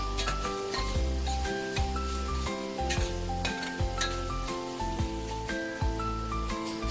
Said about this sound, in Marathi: आपल्याला हे चांगलं परतायचं आहे कारण हा मसाला आपल्याला कच्चा नाही ठेवायचा आहे शिजला गेला पाहिजे